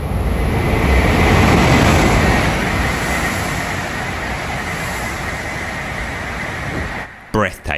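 A Shinkansen Hayabusa bullet train roars through a station at high speed, a loud, broad rushing wind-and-rail noise that stays strong for about seven seconds before cutting off abruptly, followed by a brief burst of nearby sound.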